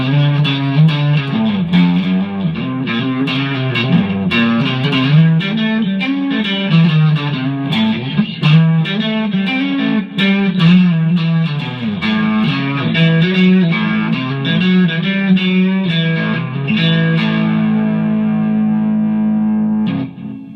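A Squier Vintage Modified Jazzmaster electric guitar with light overdrive plays a run of ringing notes that sustain long and clear, ending on a held chord that fades out, with no talking.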